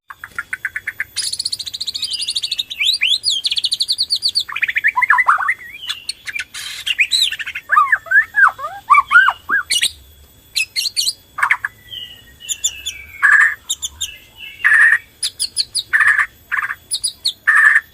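Rich, varied white-rumped shama song from a Borneo bird of phrases of whistles, trills and chirps, loud and close, followed by a run of repeated sharp call notes in quick succession.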